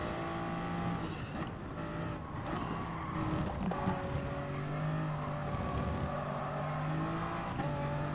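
A Toyota Supra GR3 race car in GT Sport at Spa-Francorchamps, its engine droning and shifting through gears with other cars nearby and brief tire squeal, steady and moderately loud with no talk.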